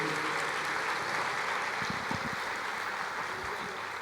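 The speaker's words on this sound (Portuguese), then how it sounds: "Você pode aplaudir o Senhor?" A church congregation applauds the Lord during a Portuguese-language sermon, a continuous, fairly distant clapping wash with a few low thumps in the middle.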